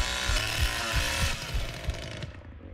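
Chainsaw revving in the horror game Texas Chain Saw, a loud, busy mechanical roar with rhythmic low thumps that drops off abruptly near the end, leaving a thinner tail.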